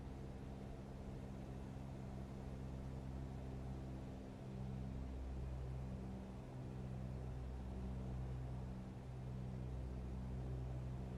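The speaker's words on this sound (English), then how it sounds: "Heard the engine note dropping then." Steady drone of a light aircraft engine heard from inside the cabin in flight over the Skegness coast, a continuous low hum whose tone shifts slightly partway through, no voices.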